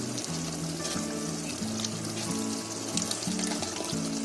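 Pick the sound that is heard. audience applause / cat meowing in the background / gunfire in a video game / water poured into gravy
water poured into gravy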